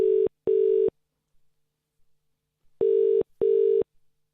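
Ringback tone on an outgoing phone call: two paired bursts of double rings, loud and close, separated by a long silent gap.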